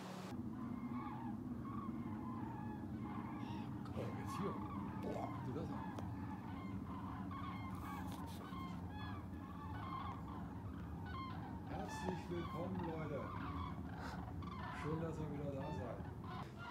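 A large flock of waterfowl, called ducks, honks and calls steadily overhead outdoors in spring, moderately loud and continuous, with a voice speaking now and then.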